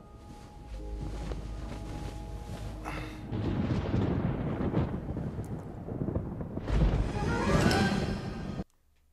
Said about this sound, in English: We're scared of the lightning.